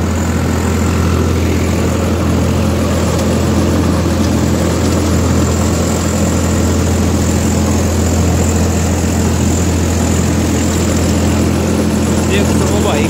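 Swaraj 744 XT tractor, a 60 HP model, running steadily with a rotavator attached; a loud, continuous low diesel drone with strong, even harmonics holds unchanged throughout.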